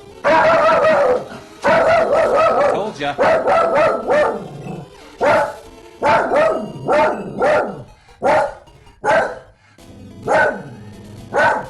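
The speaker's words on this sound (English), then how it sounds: "Male person's here, so dog might start barking." A dog barks repeatedly and loudly at a male visitor, with close, excited bursts and yips in uneven groups, and a person speaks briefly in between.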